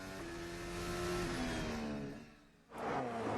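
Lewis Hamilton's Formula 1 car in qualifying at the 2023 Las Vegas Grand Prix, its engine note rising under acceleration, then dropping away as it brakes, before climbing again, heard alone and fairly close.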